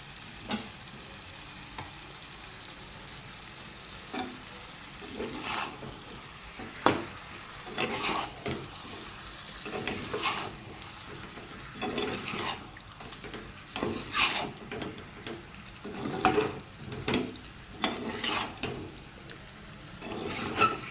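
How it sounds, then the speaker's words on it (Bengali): Food sautés in a hot pan as coriander leaves go in: a steady sizzle of frying with repeated scraping stir strokes of a spatula, irregular and close, with no talk. "ভালো করে কষিয়ে নিচ্ছি। ধনে পাতাটা দিয়ে দিলাম।"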